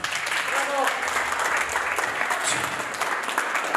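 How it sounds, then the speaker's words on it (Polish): Wedding guests applaud at a reception, a sustained wash of clapping with some voices and chatter mixed in throughout. "proszę bardzo, gorące brawa"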